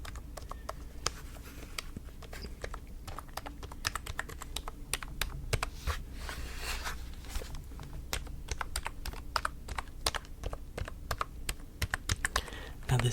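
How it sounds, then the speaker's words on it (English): Close typing on a computer keyboard that is less clicky than a gaming keyboard, a steady stream of soft, quick keystrokes with irregular rhythm, quiet in an intimate ASMR setting. "Now this isn't as clicky as my other keyboard that I game on, but I think it might be better for ASMR."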